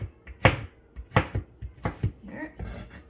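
A knife chops an onion on a cutting board for guacamole with sharp, close, irregular thuds in small bursts, separated by short pauses.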